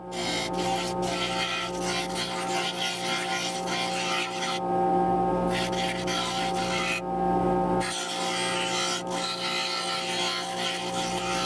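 Scissors or a blade working through colored paper to cut out a small fingerboard, a continuous close rasping and rubbing with two brief pauses partway through.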